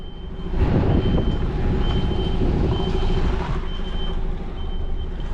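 An HGV truck reverses with a repeating high electronic beep at a steady rhythm over a loud, rumbling diesel engine.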